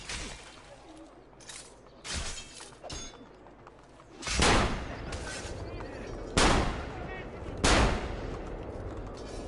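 Repeated gunshots from Renaissance-era firearms in Assassin's Creed Brotherhood, set in Rome, ring out as loud separate cracks at irregular intervals over a steady background of game ambience, with several blasts close together.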